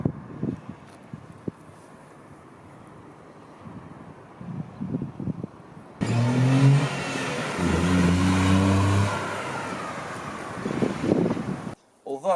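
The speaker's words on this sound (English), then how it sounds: "the engine sort of pulls alright, very noisy, it's very coarse in here" Coarse, noisy engine drone inside the cabin of a Nissan Micra K13 while driving, a low steady hum that swells louder partway through, with wind noise around it and someone talking over it.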